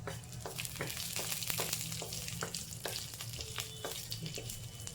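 Cumin seeds and two green chilies frying in hot oil in a pan, giving a dense crackling sizzle with rapid popping spits throughout, close and steady, no speech.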